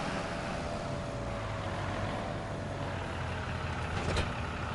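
A tractor engine in Farming Simulator 25 idles and rumbles steadily as it backs up, a constant low drone with a brief higher tonal blip near the end.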